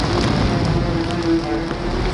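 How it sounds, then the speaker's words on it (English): Steady rain pours down, a dense continuous hiss with a faint low hum running underneath. "the rains began"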